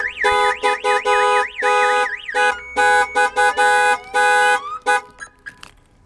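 An Excalibur car alarm blares close and loud, cycling through a rapid warbling siren, steady tones and rising sweeps in choppy repeated bursts before cutting off near the end.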